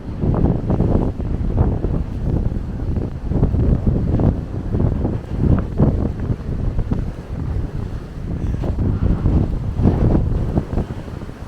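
Strong coastal wind from the southeast buffeting an outdoor microphone, loud rumbling gusts rising and falling continuously, with no voices.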